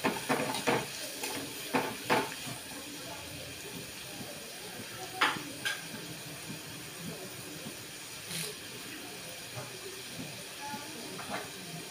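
Chopped onions frying in a pan for tempering give a soft, steady sizzling hiss, faint and even, with a few light clicks and scrapes scattered through it.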